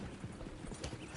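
Horse hooves clopping at a gallop in Red Dead Redemption 2, a quick steady rhythm of muffled thuds, faint and somewhat distant under game ambience.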